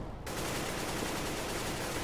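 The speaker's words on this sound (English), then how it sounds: "gunfire is exchanged through smoke" Dense, continuous automatic gunfire during a competitive Counter-Strike match on the Inferno map, a sustained loud rattle of overlapping shots starting abruptly and filling the clip without pause, no voices.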